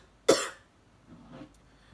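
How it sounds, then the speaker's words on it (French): A single sharp cough bursts out near the mic, followed by a softer throat-clearing rasp, with quiet room tone between. "Rien que de dire ça, ça me fait tousser."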